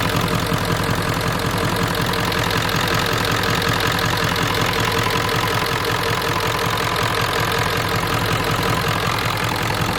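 Ford F-250 with a 7.3 IDI diesel, sitting warm at idle with a slight misfire, a close, loud, steady knocking clatter running unbroken throughout with no talking.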